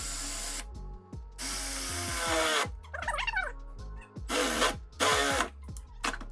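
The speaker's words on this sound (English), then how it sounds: "this drill bit is good for drilling through thin metal sheets like this" A power drill bores a hole through thin metal sheet during a reverse osmosis system installation, coming in several loud, close bursts of whining and grinding with short pauses and the motor spinning up and down between them.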